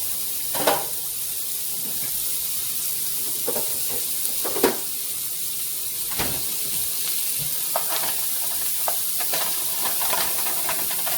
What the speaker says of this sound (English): I got unsalted butter here. I'm going to put in the pan and let that melt some too.